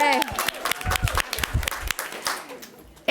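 A crowd at a governor's bill signing for Oregon's Fair Shot legislation claps and cheers in bursts while a voice keeps speaking over the noise, the clapping fading toward the end.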